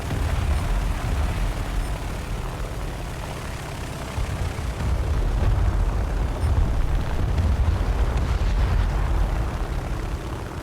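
Bomb blasts in the War Thunder air combat game, with aircraft dropping bombs on a destroyer off Wake Island: a loud, continuous low rumble of explosions and engine drone that swells and stays heavy throughout, with no talking.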